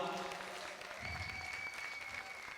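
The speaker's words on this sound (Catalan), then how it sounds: "Un fort aplaudiment per tu" A crowd applauds a performer named Uri, steady dense clapping from many hands at moderate distance, with a voice briefly audible underneath.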